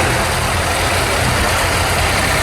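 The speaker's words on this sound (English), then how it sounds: "Phil on there, driving that tractor, he's a rep for Lister Wilder." Vintage tractor engine idling at an agricultural show, a loud, dense, continuous rumble with steady low chugging throughout, close by.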